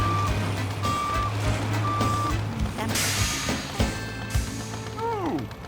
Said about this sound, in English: Dumper reversing.